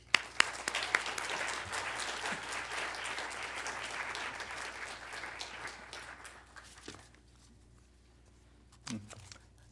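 Warm audience applause welcoming a speaker at an African National Congress event, a sustained burst of clapping from a crowd of listeners that fades out after about seven seconds, followed by a few faint sounds.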